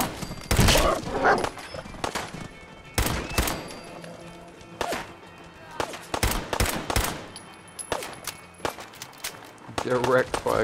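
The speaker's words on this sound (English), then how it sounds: "Ah, gunfire's coming from here." Gunfire in Fallout 4 cracks out in scattered loud bursts and single shots amid game effects, with a player talking over the action.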